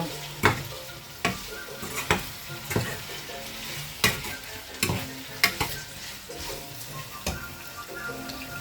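Large pieces of pork sizzle steadily in a pan while being stirred, with a loud scrape or clatter roughly every second over the constant close frying hiss and no voices.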